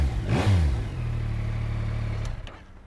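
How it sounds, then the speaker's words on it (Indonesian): Yamaha MT-09 V3 motorcycle engine, a 2021 model, starts with a quick rising rev blip. It then settles into a steady mid-pitched idle, fairly close and alone, with a few clicks near the end. "jom kita start mode engine"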